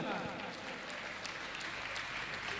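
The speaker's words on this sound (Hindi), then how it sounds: "जोरदार तालियों के साथ।" An audience at a Jain religious discourse gives a steady burst of applause, a dense even patter of clapping that fills the whole moment at moderate loudness with no voices on top.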